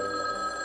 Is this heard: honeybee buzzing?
no